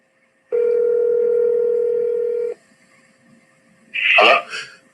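A steady telephone dial tone plays for about two seconds while a call is being placed, then cuts off; a short burst of speech follows near the end.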